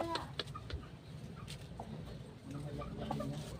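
Chickens cluck in short, scattered calls close by, several birds overlapping amid faint farmyard background noise.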